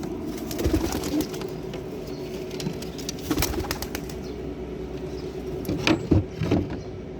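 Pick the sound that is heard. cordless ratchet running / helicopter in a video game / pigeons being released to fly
pigeons being released to fly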